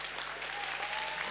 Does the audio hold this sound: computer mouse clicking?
no